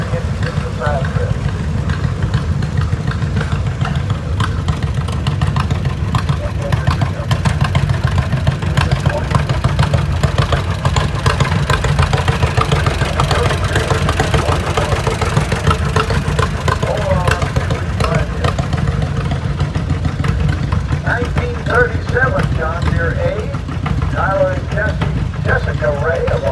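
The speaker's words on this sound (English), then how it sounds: "Next up, a 1937 John Deere beef tractor, Trevor and Tyler Ray of Boonville, Missouri" A 1937 John Deere tractor rolls past in an outdoor tractor parade, its engine chugging steadily and loudly throughout while a voice talks over it.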